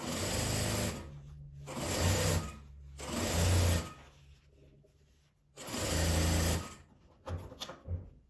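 A sewing machine stitches bias binding onto fabric in four sustained whirring bursts separated by short pauses, then a few quick stuttering stitches at the end, close and clear.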